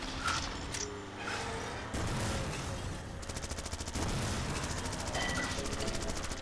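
Machine gun fire in the PC game Zombie Driver: dense, rapid bursts of gunfire over a constant game din, continuing through most of the stretch.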